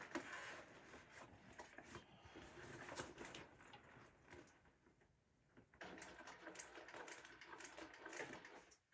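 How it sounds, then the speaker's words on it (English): A home sewing machine stitching layers of a fabric tote bag, a fast continuous mechanical whirring and clatter close by, pausing briefly before running again at a steady pace. "there's probably a better way for me to sew these on, but here we go"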